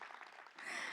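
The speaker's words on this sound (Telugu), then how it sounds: "ఒకసారి మాస్టర్కి చప్పట్లు కొట్టాలి" Audience applause at a film song launch event, a brief burst of clapping that swells in the second half, fairly faint and distant.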